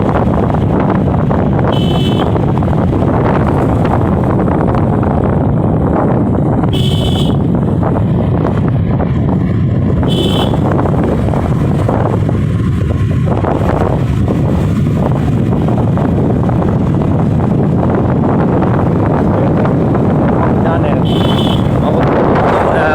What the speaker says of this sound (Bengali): হোন্ডা ড্রিম নিউ 110 সিসি গাড়িটির মাইলেজ টেস্ট চলতেছে